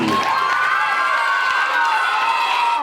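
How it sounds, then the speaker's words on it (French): Children and an audience cheer and shout loudly at a French school event after a clown workshop sketch, a sustained crowd roar of high young voices with some clapping mixed in. "On peut les applaudir."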